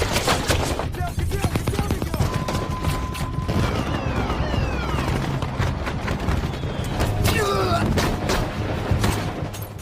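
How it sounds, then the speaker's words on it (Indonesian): Rapid bursts of gunfire crackle over a loud, busy mix, with whistling streaks and mechanical clatter layered in a chaotic film gangster shootout at a party. "suara letusan kembang api menjadi peluit pembuka aksi tembak-menembak"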